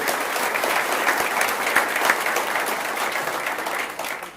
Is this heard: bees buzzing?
no